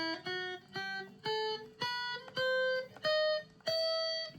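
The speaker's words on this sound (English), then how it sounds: "There's something called a harmonic minor scale, which is kind of an exception" Guitar plays a harmonic minor scale one note at a time: eight evenly spaced plucked notes climbing in pitch, each ringing clearly and alone at a moderate level.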